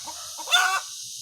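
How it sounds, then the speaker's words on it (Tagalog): A hen gives one short, close, throaty cluck beside her newly hatched chicks lying still, a single brief call with no talk. "Ayan, nagpuputak pa rin po siya."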